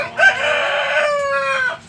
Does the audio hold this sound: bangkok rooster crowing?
yes